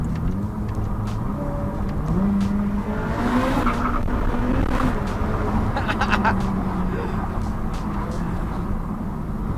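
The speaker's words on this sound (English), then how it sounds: "All I can hear is tire squeal." Sustained tire squeal from a Ferrari F8 Tributo over a steady engine roar, with rising and falling pitched tones and faint voices in the background.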